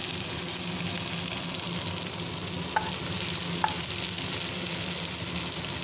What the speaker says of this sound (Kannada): ಇವಾಗ ನೋಡಿ ಇದೆಲ್ಲ ಮಸಾಲೆನ ಹಿಡ್ಕೊಂಡು ಬೇಯ್ತಾ ಇದೆ